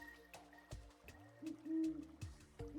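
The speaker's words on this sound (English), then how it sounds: "Do I hear an owl? There are owls around here" Soft owl hoots from the video game Terraria, several low repeated calls spaced unevenly over a quiet ambient background, fairly faint and unaccompanied by talk.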